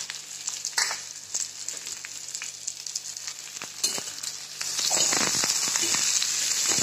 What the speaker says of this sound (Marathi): आता हे चांगलं भाजून घेते चांगलं.